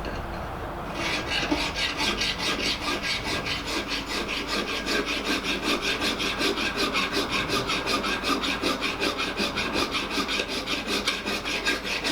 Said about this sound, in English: we still need to file in the chamfers